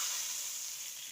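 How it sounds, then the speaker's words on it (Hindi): Hot tadka tempering sizzles for a moong masoor lentil dal, making a steady, bright, close hiss that fades slightly, with no talking. "ये बस रेडी होगा, हम दाल के ऊपर इसका लगा देंगे तड़का।"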